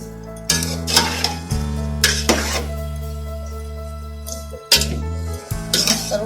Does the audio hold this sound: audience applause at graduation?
no